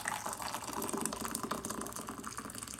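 Boiling water pours steadily into a measuring cup nearby, a splashy, gurgling trickle that runs continuously for a few seconds.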